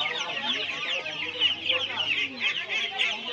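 A crowd of one-month-old Australian chicken chicks at a poultry market peep and cluck continuously, dense overlapping chirps close by, with faint murmuring in the background.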